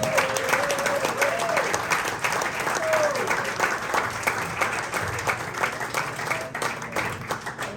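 Steady, full crowd applause at a basketball season tip-off party program, sustained without a break through the whole stretch, with a few faint whistles over the clapping.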